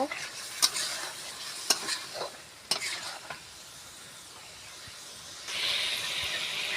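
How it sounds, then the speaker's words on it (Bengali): Meat sautéed in a pan for khichuri: a soft continuous sizzle broken by several sharp scraping stir strokes, then a louder hiss rising near the end, with no talking. "এবার আমি গোশটা দিয়ে দিলাম, গোশটা ভালো করে কষিয়ে নেব।"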